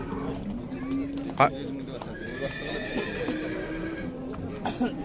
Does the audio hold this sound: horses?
yes